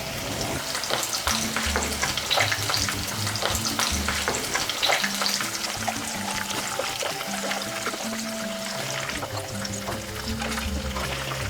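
Prawns dipped in egg and coated in bread crumbs fry in oil on low heat, a constant close crackling sizzle with faint bubbling and occasional utensil taps, no voices.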